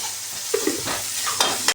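Mustard seeds, cumin and red chilli powder sizzle in hot oil in a kadhai for an onion dal amti, a short steady fry broken by a few spoon-stirring scrapes.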